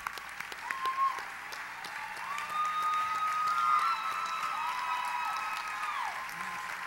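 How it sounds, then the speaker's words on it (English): A pageant audience applauds the outgoing Miss Teen USA, steady distant clapping and crowd noise running under music and a faint voice. "Let's give her a round of applause."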